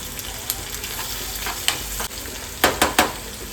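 Garlic crackles in hot oil for a guar bean curry, a dense close sizzle with a few spatula scrapes and a quick burst of three louder clacks near the end, no voices.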